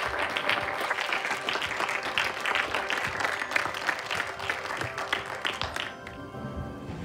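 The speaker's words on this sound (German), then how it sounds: "großen Applaus für Eva Kirschner aus Roter Erde." An audience applauds a film team at a screening, with steady, dense clapping that holds for several seconds before thinning out near the end.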